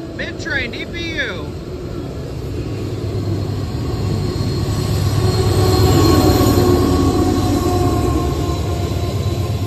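A CSX freight train with auto racks and a mid-train distributed power locomotive rumbles past at Glendale, wheels squealing and the locomotive's engine roar building midway, steady and loud, with a brief high chirp early on.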